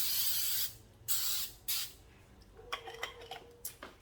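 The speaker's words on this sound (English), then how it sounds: "Then I'm gonna spray my pan." Three short hissing bursts of cooking spray onto a baking pan, close by, followed by light clattering of the pan being handled.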